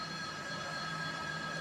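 Passenger train standing at a Mumbai station before a run to Kankavli, a faint steady low rumble with a thin sustained whine, distant and unbroken.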